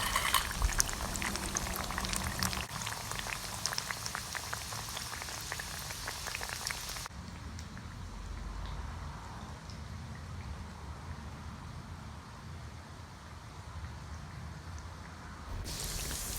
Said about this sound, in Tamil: ஸ்டவ்வை மீடியம் ஃப்ளேமில் வச்சு நம்ம வந்து ஃப்ரை பண்ணி எடுக்கணும்